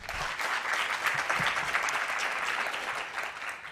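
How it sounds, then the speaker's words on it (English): An audience at a masterclass gives a round of applause, steady and dense clapping that fills the whole stretch at an even level with no talking. "I think he deserves another round of applause"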